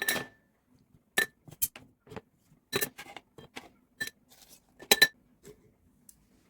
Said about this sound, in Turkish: istediğim malzemeleri kavanoza yerleştiriyorum